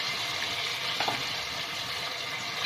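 Ginger garlic paste frying among browned onions for a mutton curry, making a continuous even sizzle with one faint stir near the middle, close and moderately loud.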